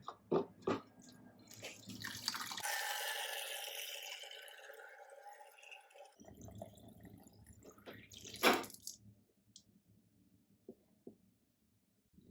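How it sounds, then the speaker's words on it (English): Water pours into a plastic bottle whose punched hole is covered by a finger. A close, rushing fill lasts several seconds, with drips and handling sounds before and after. "Now we'll fill water in this bottle"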